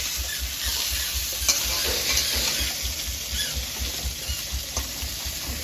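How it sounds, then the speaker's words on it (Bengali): Fish frying in hot oil gives a steady, close sizzle with a low rhythmic pulse underneath and a few light scraping clicks, no voices over it. "দেখো আমার মাছ ভাজা হয়ে গেছে সুন্দর মাছ ভাজা হয়ে গেছে"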